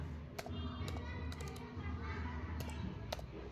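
Keystrokes on a computer keyboard, in irregular bursts of sharp clicks while typing text into MS Word, heard over a steady low background hum.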